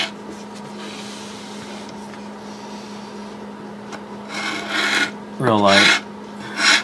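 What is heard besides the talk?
sanding wooden wall clock case with sandpaper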